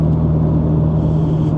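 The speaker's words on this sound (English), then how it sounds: "you also have the sound of that amazing vacuum turbo as well right in front of you" Inside a Toyota Celica GT-Four, the engine drones in a steady low hum with a constant tonal note, the turbo present under the cabin rumble, no one speaking.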